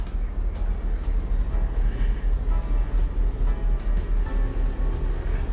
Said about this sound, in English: And that humming noise sounds like the engine.